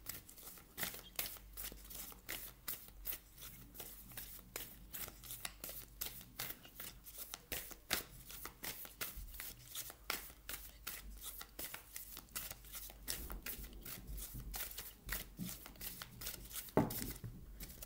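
A deck of oracle cards is shuffled continuously for a long stretch, rapid papery riffles and flicks in a steady rhythm, close and soft, with a louder slap near the end.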